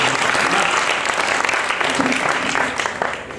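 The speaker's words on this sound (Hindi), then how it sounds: "आप सभी लोगों से अनुरोध करता हूँ कि इनके लिए एक बार जोरदार तालियां बजा दीजिए।" Loud, dense applause from an audience at a Hindi kavi sammelan poetry gathering fills the whole clip, steady and close, tapering slightly at the end.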